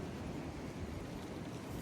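Steady wind roars across the microphone on a very windy day on a farm property, a continuous broadband rush with no pauses.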